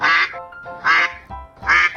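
A duck quacks three times, evenly spaced, loud and close, with nothing else around it.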